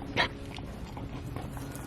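Several excited dogs being noisy indoors, with a sharp bark or yelp early on and ongoing whimpers, yips and scuffling over a steady low background hum.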